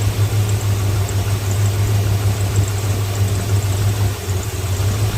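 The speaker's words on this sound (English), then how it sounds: "I know the engine's roaring right there." A 1978 Volare engine idles steadily and loudly close by, a constant low rumble with no break for the whole stretch.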